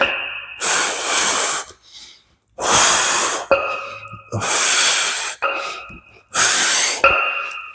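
Heavy, forceful breaths come in loud repeated bursts of exhaling and gasping, close to the mic, during a dumbbell chest workout, with a tonal hum between breaths.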